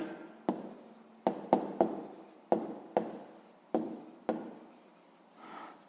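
Handwriting on paper, likely a pen noting a distance in a sixth-grade math exercise: a series of short scratchy strokes with sharp onsets, close and fairly quiet, with no talking.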